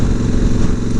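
A top-heavy motorcycle climbing the road up Mount Washington gives a steady, close engine drone that stays loud and even for the whole second, with no talk.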